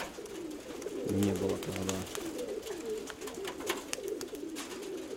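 Pigeons cooing outdoors on a hot morning, with two short low coos standing out faintly against wind noise and a brief bit of speech in Russian.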